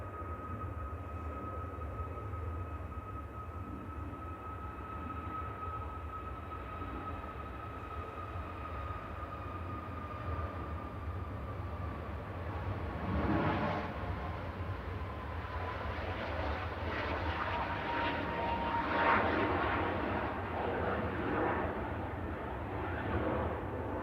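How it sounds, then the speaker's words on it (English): A Ryanair Boeing 737 MAX 8-200 jet departs Manchester Airport, its engine roar building from a steady far-off drone into a louder, broadband rush with a faint whine, heard alone without talk. "Ryanair 1271 to Bucharest departing now, EIIGH. This is a MAX 8 200."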